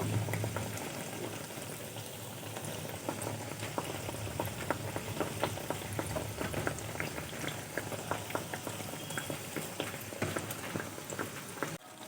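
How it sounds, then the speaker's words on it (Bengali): Chhana jalebi fry in hot oil and are turned over, giving off a soft, continuous bubbling crackle. The sound is faint and even throughout, then cuts off abruptly at the end. "এই সাইডটাও আমি উল্টি পাল্টি ভেজে নেব"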